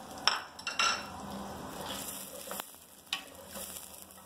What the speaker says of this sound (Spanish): Y ahorita vamos a echarle la cebolla. Primero la cebolla. Lo sofreímos 2 minutos